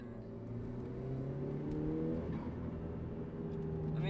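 A Ford Focus ST fitted with an MBRP catback exhaust revs steadily with a droning engine note, rising briefly before a downshift and settling into a continuous moderate hum.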